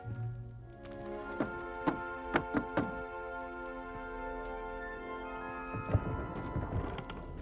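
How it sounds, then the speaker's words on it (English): A wooden barrel is tapped in a set rhythm in the video game Hogwarts Legacy, a handful of crisp hollow knocks in a quick patterned sequence over a humming ambient background. "You must tap the barrel, 2 from the bottom, middle of the second row, in the rhythm of Helga Hufflepuff."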